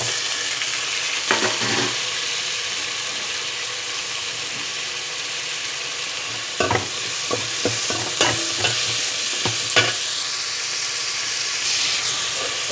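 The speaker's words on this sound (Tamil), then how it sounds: "தக்காளி நல்லா வதங்கட்டும்." Chopped tomatoes fry in a pan for radish sambar, a constant hissing sizzle running throughout, with bursts of utensil scraping and stirring clatter clustered near the start and again in the second half, close and fairly loud, no one speaking.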